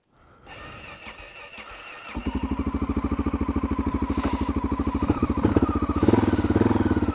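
A dual sport motorcycle engine cranks and catches on a cold start, then settles into a loud, close, rapid thumping idle that gradually builds as it warms up, with a whining squeal over the pulses.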